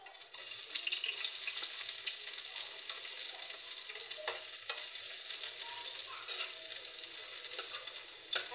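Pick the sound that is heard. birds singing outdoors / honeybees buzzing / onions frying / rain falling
onions frying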